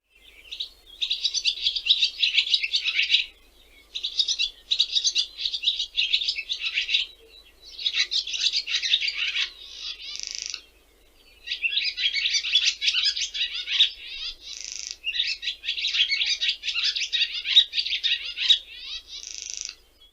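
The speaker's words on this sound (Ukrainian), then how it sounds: "Давайте послухаємо, як співає ластівка." A barn swallow's rapid twittering song in repeated bursts with short pauses between, clear and close, with no other sounds around it.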